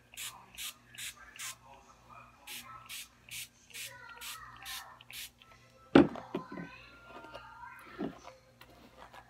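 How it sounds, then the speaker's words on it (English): Hairspray spritzed onto hair while a side ponytail is styled, in a string of short, close hissing bursts, then quieter rustling and handling noises. "I'm gonna put more hairspray"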